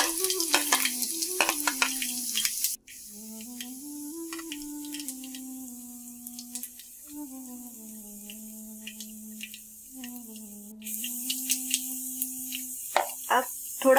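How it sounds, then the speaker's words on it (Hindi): Cumin and mustard seeds sizzle and crackle in hot oil for a spinach and lentil dal, with bursts of frying hiss at the start and end and a steady sizzle under a voice-like tone through the middle. "अब हम इसमें जीरा और राई डाल देंगे। जैसे ही ये हल्के तड़कने लगे, इसमें हमारा कटा हुआ लहसुन डाल देंगे।"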